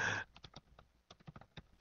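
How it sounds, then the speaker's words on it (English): Keystrokes on a computer keyboard, a quiet, irregular patter of separate taps after a short burst of louder noise at the start, no voices. "I was typing something."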